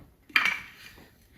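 A tablespoon of chai spices tipped into a pot, giving one sharp metallic clink of spoon against pot followed by a short, fading rattle.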